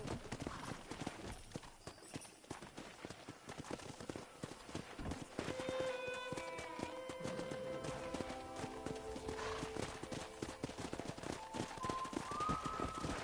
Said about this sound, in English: there's a pack of wild horses nearby.